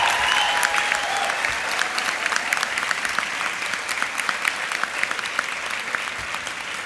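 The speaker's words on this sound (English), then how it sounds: "I invite the graduates to applaud their professors for all the assistance they provided to you over your time here." Graduates at a university commencement ceremony in Paris applaud their professors, a broad, sustained clapping from a large crowd with scattered sharper claps standing out, heard from a distance in a reverberant hall.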